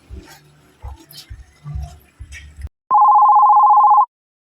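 A phone rings once with a loud, steady electronic tone lasting about a second, coming alone right after a stretch of muffled conversation.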